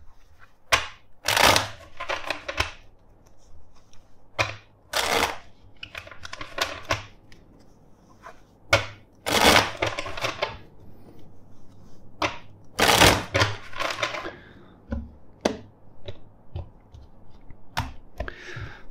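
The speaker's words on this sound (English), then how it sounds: "let's shuffle four times" Tarot cards are shuffled repeatedly in sharp riffling bursts, close up, separated by brief pauses and soft handling clicks.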